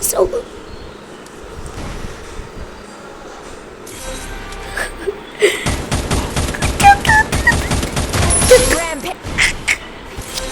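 Rapid bursts of video game gunfire crackle over a busy soundscape, growing dense and loud in the second half, with voices talking throughout.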